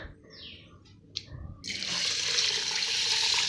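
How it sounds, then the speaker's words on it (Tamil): Water runs steadily from a tap into a sink as rice is washed, a broad continuous rush following a few faint clinks and splashes, close by with no talking. "அதே சமயத்தில் கொஞ்சம் அரிசியும் சாதத்துக்கு கழுவிடலாம்."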